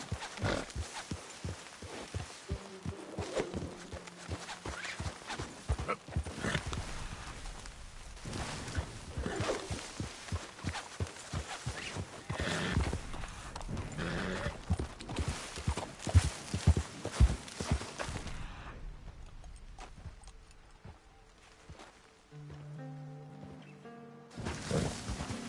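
Horse hooves clip-clop steadily as a rider urges the mount along in Red Dead 2, a rhythmic run of hoofbeats that fades out near the end, with a few soft words spoken.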